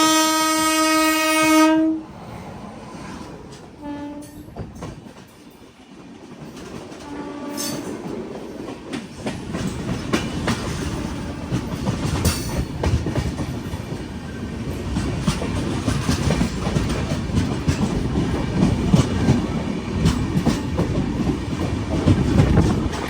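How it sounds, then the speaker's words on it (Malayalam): A Mangaluru–Kacheguda express train in sleeper class nears Katpadi railway station. A loud horn blast opens, a short second toot follows, then steady rumbling and clickety-clack of the carriages builds and continues. "ട്രെയിൻ ഇപ്പോൾ കാട്ട്പാടി റെയിൽവേ സ്റ്റേഷനിലേക്ക് എത്തിക്കൊണ്ടിരിക്കുകയാണ്"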